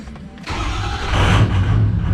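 A 2005 Ford pickup with a 6.0 Powerstroke diesel engine and a replacement starter, cranking briefly and catching, then settling into a loud, close, rumbling idle.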